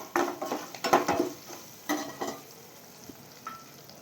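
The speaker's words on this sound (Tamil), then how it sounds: "போட்டு நல்லா வதக்குங்க." Green chillies and curry leaves frying in a pan for lemon rice, stirred with a utensil: bursts of sizzling and scraping strokes come in uneven clusters, close and fairly loud, fading to a quieter crackle.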